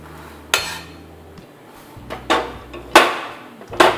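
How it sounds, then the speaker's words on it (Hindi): Roasted peanuts poured from a metal pan onto a plate in a home kitchen, four or five sharp clinking scrapes of metal against the dish, close and loud, separated by short pauses. "अब मैं इसको उसी प्लेट में डाल दूंगी जिसमें मैंने अलसी डाली थी"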